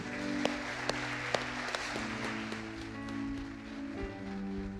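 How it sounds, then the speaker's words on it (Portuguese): Church congregation clapping in praise, a fairly quiet, steady patter of many hands with a few sharper individual claps standing out near the start. "Quem pode dar uma salva de palmas para Jesus?"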